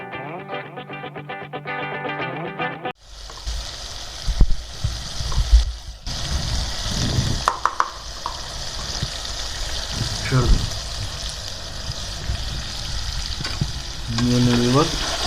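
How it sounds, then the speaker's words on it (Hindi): Chicken korma with tomatoes cooks in oil over low heat, a soft continuous sizzle and bubble with occasional stirring clatter, following a brief burst of music as someone talks over the pan. "मिक्स करने के बाद हम थोड़ी देर इनको हल्की आंच पे ज़रा पकने देंगे ताकि टमाटरों का जो पानी है वो खुशक हो।"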